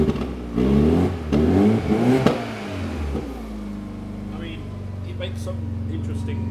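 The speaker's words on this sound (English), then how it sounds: "Give it a rev." A rebuilt car engine with a pop-and-bang map is revved hard in three quick blips that crackle and pop, then settles to a steady idle, close by, with people talking.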